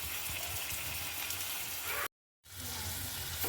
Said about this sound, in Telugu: ఒక 5 నిమిషాల తర్వాత నానబెట్టిన రొయ్యలని కర్రీలో వేసుకుందామండి